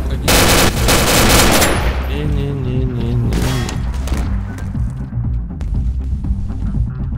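Rapid machine gun bursts in a Garry's Mod DarkRP match, loud and dense at the start, then continuing as sustained automatic fire with a voice speaking over the shooting.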